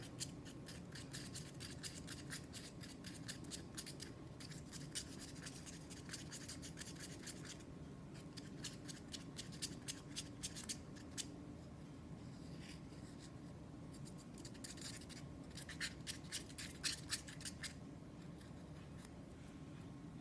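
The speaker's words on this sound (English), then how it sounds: "I'm just going to stir it in here and see what kind of yellow we get." A spoon stirs potent yellow pigment into liquid silicone in a cup, giving repeated soft scraping and swishing strokes in bursts, close and moderately quiet over a steady low background hum.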